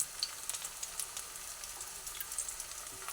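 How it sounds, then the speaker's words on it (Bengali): Pieces of taro (ghati kochu) stirred in hot oil, a faint, fine crackling sizzle with light intermittent spatula scrapes, quiet and close, no voices. "সেই জন্য তেলের মধ্যে দিয়ে অল্প করে নাড়াচাড়া করে নিচ্ছি"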